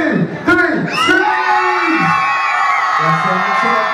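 A crowd of children at a live show in Torquay screams and cheers on cue, a loud sustained roar of high voices and whoops that swells after a short count-in voice and stays strong throughout.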